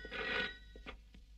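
A telephone rings in an old Telugu film scene, a short trilling bell burst followed by a couple of fainter clicks, quiet and alone without talk.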